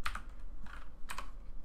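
A few quick keystrokes on a computer keyboard, close and fairly quiet clicks in small clusters, no speech.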